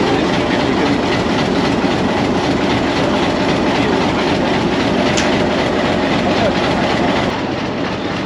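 A PHA-20 diesel locomotive running steadily, heard from inside the cab on a Punjab line: a continuous loud engine roar with rhythmic wheel clatter, unbroken throughout.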